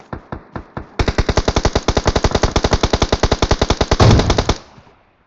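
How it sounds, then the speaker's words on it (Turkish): Automatic gunfire in the PUBG Mobile video game, set in Erangel: a few spaced single shots, then a long rapid loud burst of evenly spaced shots, ending in a heavier blast that decays into silence. "Nereden sıkıyor?"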